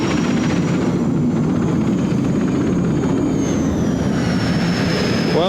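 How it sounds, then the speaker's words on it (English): A loud, continuous roar of helicopter turbine engines on a pulling tractor at an indoor tractor pull, with a steady high whine running over a dense, rumbling mechanical drone. "there was a lot of noise from the turbines that normally power Super Freelon helicopters"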